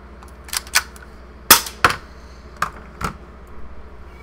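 Airsoft gun shots striking a Zippo lighter, a handful of sharp, close snapping cracks at irregular intervals over a quiet background, with no talk.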